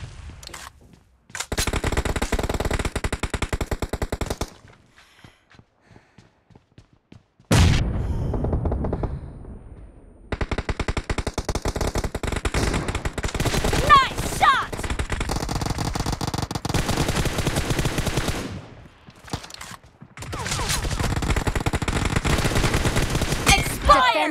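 Rapid automatic rifle fire from an M762 and an M416 in a PUBG team deathmatch, sustained bursts in several loud stretches broken by short quiet gaps, with a few faint voice lines in between.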